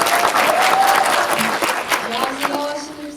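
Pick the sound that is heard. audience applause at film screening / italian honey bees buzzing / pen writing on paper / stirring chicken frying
audience applause at film screening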